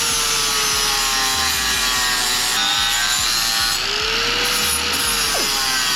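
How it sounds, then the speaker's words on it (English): Powder coat is stripped off a steel motorcycle frame for an M8 chopper build, making a loud, steady abrasive grinding rasp that runs without a break, close up and with no talking. "just taking the powder coat off the frame"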